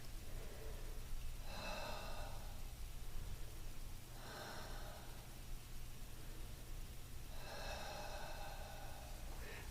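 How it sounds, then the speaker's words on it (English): Slow deep breaths drawn in and let out during a kneeling quad stretch, three soft breathy swells over a steady low hum of background noise. "stretch out the quad, stretch out the toes for 3 deep breaths"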